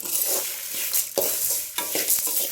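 Cumin seeds roasting in a hot pan for idli podi, a close, steady dry sizzle with a few scraping stirs.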